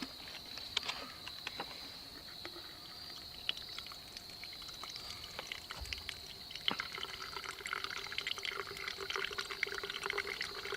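Water squeezed gently from a soft bag through a portable water purifier filter outdoors in the bush, giving a steady thin trickle with scattered drips and small splashes, close and continuous.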